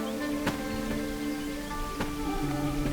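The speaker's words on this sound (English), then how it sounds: "Rain again." Steady rain falls in the Minecraft video game, a continuous hiss of drops with a few louder patters, heard alone without talk.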